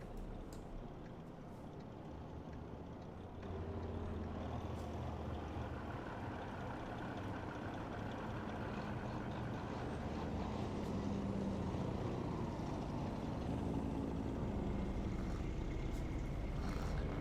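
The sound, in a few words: traffic sounds of other trucks in American Truck Simulator video game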